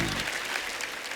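A studio audience at a comedy talk show applauds in dense, steady, close applause with no break for the whole moment.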